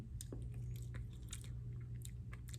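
Close, quiet chewing of gritty, crunchy burnt sugar, with irregular crisp crunches and bites over a faint low hum.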